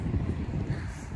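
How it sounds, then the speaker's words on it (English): Strong wind buffeting a microphone outdoors in Hamburg city, a brief loud low rumbling gust. "So windy today."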